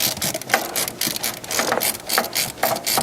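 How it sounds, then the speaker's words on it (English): A ratchet wrench clicks in quick bursts, loosening a spark plug on a Porsche 3.2 Carrera engine that has been giving trouble; the close, repeated pawl clatter runs steadily with no talking. "The twisty-turny ratchet here is awesome for this."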